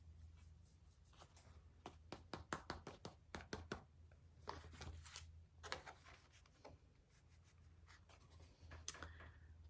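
Eyeshadow is swatched onto a piece of paper with a rapid series of light taps and scratchy dabs, followed by a slower stretch of rubbing strokes, close and quiet with no voices.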